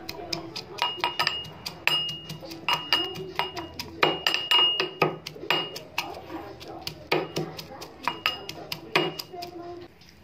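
Garlic, coriander and curry leaves are pounded by hand, giving sharp, close knocks in a quick, fairly regular rhythm of two or three a second, with faint speech in places.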